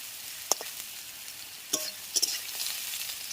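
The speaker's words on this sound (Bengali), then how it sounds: "তেলের মধ্যে আলুটা দিয়ে একটু ভাজা ভাজা করে নেব" Potatoes frying in hot oil for a loitte (Bombay duck) fish dish: a steady, soft sizzle throughout, broken by a few sharp clicks and scrapes of a stirring utensil.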